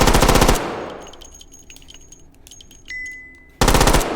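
Automatic gunfire in the VR game H3VR, two loud rapid bursts of shots at the start and end, with quieter mechanical clicks and metallic handling noises between.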